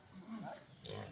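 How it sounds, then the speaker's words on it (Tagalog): Wild boar grunting at close range in a rural setting in the Philippines, low rough grunts running through the whole short stretch, with people talking over it and background noise. "Mahilap talaga itong baboy ramo."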